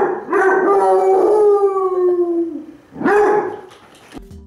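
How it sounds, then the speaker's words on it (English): A Basset Hound lets out a long, loud, wavering howl lasting over two seconds, then a second shorter howl and a brief bark-like yelp, close and clear. "they'll let you know that they're lonely with their distinct howling and their barks that can travel long distances"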